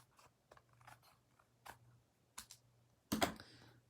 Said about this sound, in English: I'm going to find my scissors. And so I'll just trim this away